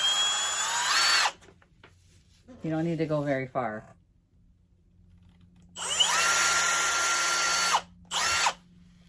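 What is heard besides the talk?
drill pre-drilling hole in wooden frame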